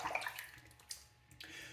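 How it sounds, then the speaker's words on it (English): Water runs into a bathroom sink as it is rinsed out during a shave, a steady close splashing hiss that breaks off briefly before resuming. "Rinse out the sink here."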